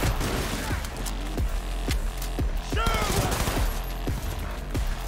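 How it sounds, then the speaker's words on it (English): Shotgun fire in Cyberpunk 2077, with a series of heavy blasts at roughly half-second intervals over a constant rumbling bed, along with clattering impacts and a few whooshing sweeps. "Whoa, he's got a shotgun."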